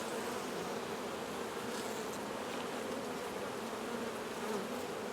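Honey bees buzzing around a double-deep eight-frame hive, a steady continuous hum of many wings close by, with a few individual bees swelling louder as they pass, no voices.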